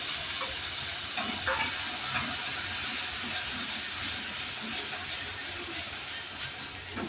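A continuous soft hiss and sizzle of onion gravy cooking in a pan, fairly faint and steady, with an occasional light scrape.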